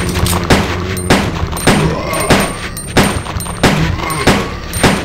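Regular, loud gunshots in Resident Evil 2, about one every second, each a sharp close crack with a short ringing tail over a low steady background.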